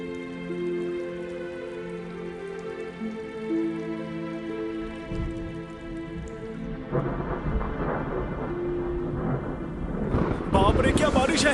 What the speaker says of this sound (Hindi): बाप रे, क्या बारिश है!